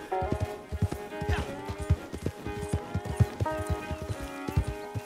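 Stallion hooves galloping in Red Dead Online, a steady, loud clip-clop rhythm close by, with harness jingle and a brief horse whinny in the mix.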